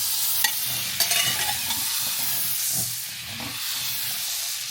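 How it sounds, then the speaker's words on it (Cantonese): Butter hits a hot wok for French onion soup, producing a loud, hissing sizzle with scraping stir strokes and occasional sharp clicks, steady throughout with no voices. "個鑊熱啦，咁我哋就將啲牛油倒落去。"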